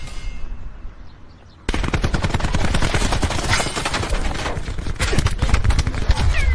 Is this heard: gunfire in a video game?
yes